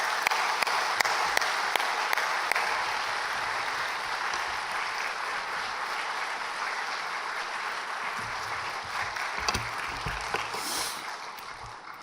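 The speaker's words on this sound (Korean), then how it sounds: "귀한 사역에 열매를 맺고 있는 우리 이은영 선교사님 나오실 때 큰 환영의 박수, 또 말씀을 기대하면서 주님께 영광의 박수를 올려드리겠습니다." A church congregation applauds at a Sunday worship service to welcome a missionary, with sustained, fairly soft clapping from a large crowd filling the room and tapering off near the end.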